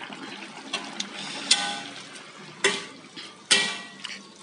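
A spoon stirs chicken rica with spices in a pan, soft scraping and sizzling broken by several sharp clinks and knocks against the pan, close and without talk.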